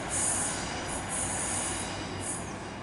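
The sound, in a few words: Great Western Railway class 153 train passing on curve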